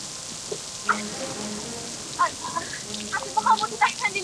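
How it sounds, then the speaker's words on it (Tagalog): Steady rain patters outdoors in a soft, even wash, with brief voices and a few sharper drops breaking through near the end. "Mamaya, titila din yung ulan, ha?"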